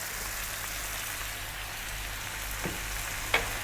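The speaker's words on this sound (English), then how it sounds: "We're now going to drop in that 1 cup of onion." A cup of onion frying in a hot pan with browned mutton pieces, an even loud hiss like rain, with a faint scrape near the end and a single short clack.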